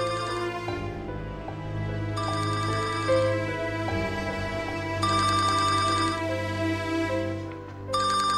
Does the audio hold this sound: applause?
no